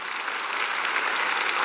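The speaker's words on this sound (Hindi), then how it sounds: "मैं चाहूंगा इनके लिए एक जोरदार तालियां।" A live audience breaks into loud, steady applause for a guru at a Star Sapphire leadership event, dense continuous clapping with no voices over it.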